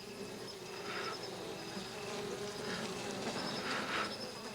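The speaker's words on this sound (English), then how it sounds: "These are the same aggressive bees that cause such havoc in America." Aggressive bees swarm around their hives, filling the air with a steady, dense buzz and a few louder passes close by.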